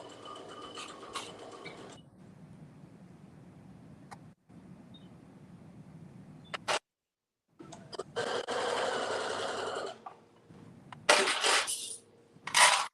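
A sewing machine stitches a caftan facing at a 5/8 inch seam, running in stretches of mechanical whirring broken by pauses and scattered handling clicks.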